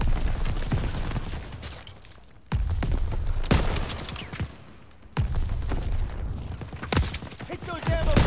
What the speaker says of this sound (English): Daniels, shoot the ammo caches!